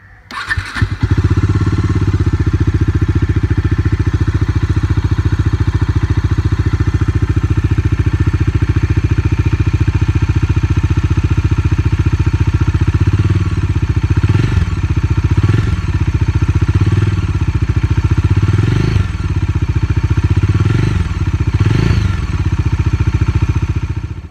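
A 2020 Bajaj Dominar 400 BS6 motorcycle starts up and then idles close by through its stock exhaust, with a deep, steady, loud thrum and a few brief throttle blips near the end.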